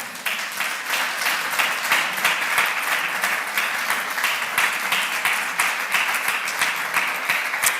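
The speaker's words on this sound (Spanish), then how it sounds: "Le damos un fuerte aplauso a Cristo." A church congregation claps together in steady, sustained applause, dense and even for several seconds, filling the room without any voices standing out.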